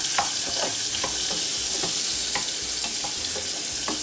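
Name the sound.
pork fat (salo) frying in a pan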